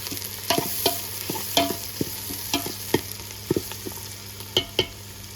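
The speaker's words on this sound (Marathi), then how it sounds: "मस्त चांगलं शिजवून घ्यायचं आपल्याला कांद्याला." Onion frying in a pan over a wood-fired stove while being stirred, a steady sizzle with repeated scraping stir strokes and clicks, close and fairly loud with no talk.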